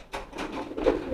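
A pigeon coos in a few short low throaty pulses, close by and brief.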